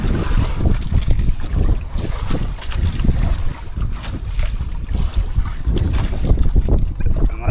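Choppy sea waves slapping around a small fishing boat, with gusting wind buffeting the microphone in an irregular, rumbling wash.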